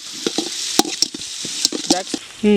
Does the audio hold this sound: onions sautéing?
yes